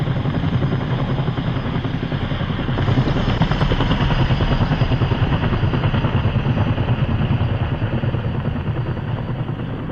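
A helicopter in a military video game flies steadily, its loud continuous rotor drone and engine whine filling the scene with constant rhythmic chopping and no talk.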